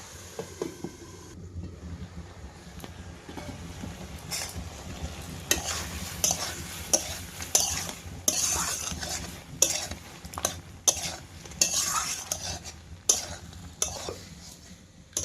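Shrimp and vegetables stir-fried in a pan for a home-style dish, with a constant sizzle and rapid, rhythmic spatula scrapes and clanks against the metal that grow louder and denser toward the end.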